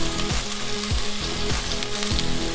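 Onion and carrot sizzle steadily in a hot pan, with a few scraping stirs of a spatula repeating every half second or so.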